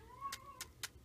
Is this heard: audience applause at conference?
no